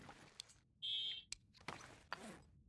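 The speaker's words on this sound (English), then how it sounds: "I can't like get up and go check what's beeping in the driveway" Electronic beeping from a driveway outside, a steady tone with a few sharper clicks and bleeps around it, faint and distant under room noise.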